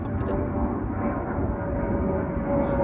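Airplane flying over a snowy Canadian town near an airport, a steady broad engine roar that holds level throughout without fading.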